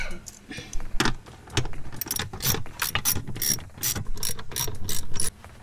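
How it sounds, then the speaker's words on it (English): Ratchet tightening screws on the head unit housing in a Volvo XC90 during an Android head unit install, with repeated rapid clicking bursts, close and fairly loud, and a few short pauses between runs. "Once these are started, you can get in there with the"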